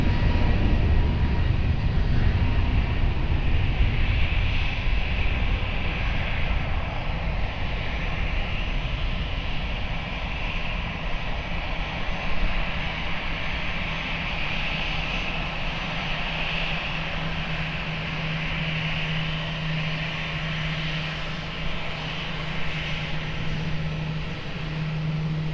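Airliner taking off at Lisbon Airport, a sustained loud jet engine roar that holds steady for the whole stretch and slowly shifts in tone as it builds, heard from a distance without speech.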